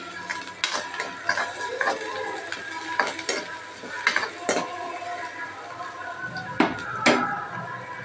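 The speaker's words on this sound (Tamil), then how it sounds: "வெங்காயம் நல்லா வதங்கி வந்துடுச்சு." Onions sauté in a pan for a cauliflower stir-fry, with repeated spatula scrapes and clatters over a faint, soft sizzle.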